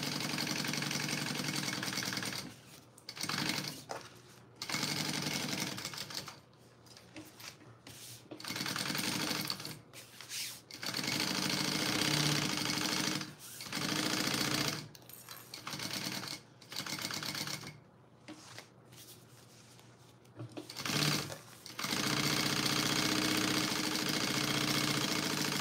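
A domestic sewing machine bastes two bonded nylon layers together for a tote bag, running in long steady bursts broken by short pauses, with a mid-pitched mechanical whir close to the mic and no talking.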